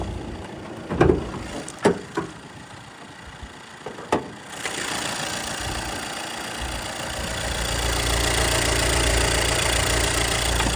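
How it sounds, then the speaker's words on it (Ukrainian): A few clicks and knocks, then a 2022 MAN TGE van engine settles into a steady, continuous idle rumble that holds to the end. "Моторчик працює добре"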